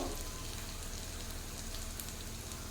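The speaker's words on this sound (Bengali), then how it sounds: "হালকা একটু নাড়িয়ে ভেজে নেব" Spices sizzle and crackle in hot oil in a pan while being stirred and fried, a steady close frying hiss with scattered pops; no talking.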